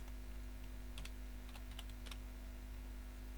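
A computer keyboard clicks in a few scattered clusters as JavaScript code is entered, faint keystrokes over a steady electrical hum.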